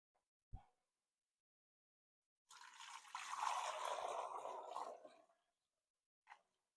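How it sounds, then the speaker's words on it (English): Homemade chicken stock streams through a kitchen strainer into a bowl, a close, continuous liquid pour of about three seconds, set off by a couple of faint clicks before and after. "I'm going to pour through this strainer right here."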